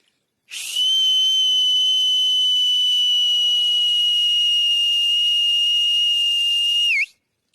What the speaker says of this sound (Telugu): ఇది గొర్రెల విజిల్ అంటారు.